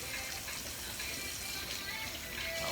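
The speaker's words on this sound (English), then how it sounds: "Let me get a clean knife and wash this knife." Tap water runs steadily into a sink while a kitchen knife is washed, a continuous close hiss and splash with no talking.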